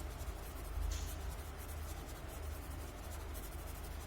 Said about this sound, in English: So what I am doing is I am just smudging this graphite, taking it to the other two ends.